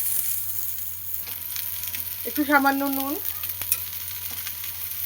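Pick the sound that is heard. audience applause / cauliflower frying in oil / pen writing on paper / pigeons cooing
cauliflower frying in oil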